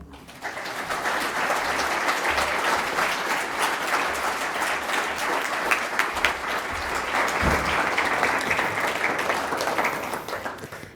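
An audience at a public talk breaks into sustained applause that rises quickly and holds at full strength for several seconds, a broad steady wash of clapping before tapering at the end.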